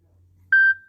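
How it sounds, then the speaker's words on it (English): A single short electronic beep cuts in sharply over near silence on a live stream, a clean steady tone lasting about a quarter second before fading into a faint lingering ring. "I thought I got rid of that beep"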